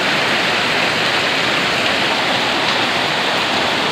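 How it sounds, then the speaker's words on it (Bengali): Heavy rain pours down outside in a dense, steady roar that stays loud and unbroken throughout, with no other sounds breaking through. "বাইরে প্রচুর বৃষ্টি হচ্ছে দেখেন একদম মনে হচ্ছে যেন কুয়াশা ভিজে গেছে এমন এত জোরে বৃষ্টি হচ্ছে"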